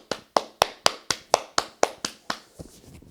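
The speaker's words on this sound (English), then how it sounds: "Let me clap it up real fast." A single person claps their hands about ten times in a quick, even rhythm, each clap sharp and close, the last few softer and trailing off.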